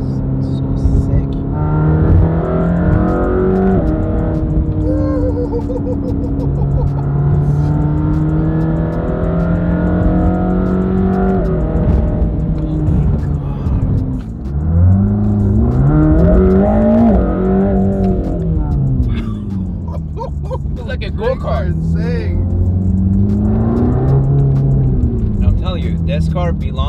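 Mercedes-AMG GT Black Series P One Edition engine rumbling and revving loudly up close, rising and falling in pitch through several throttle swells, with people talking over it.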